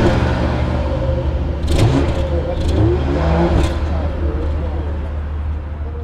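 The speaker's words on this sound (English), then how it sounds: "This car having the B58, I think it's only appropriate that we do a quick sound check." A BMW G70 740i with the B58 engine idles, then is revved three times in quick blips, each rise and fall clearly audible against a steady, close engine hum.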